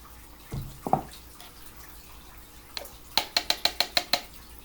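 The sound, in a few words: spooning baking soda into a cup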